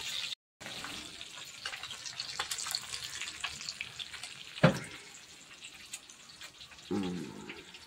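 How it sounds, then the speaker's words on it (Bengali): Fish fries crisp in a small iron wok over a small stove, giving a faint, continuous sizzling hiss with an occasional clink or sharper pop. "কড়া কড়া মাছ ভাজা, লোহার কড়াইতে মাছ ভাজা, ছোট লোহার কড়াই"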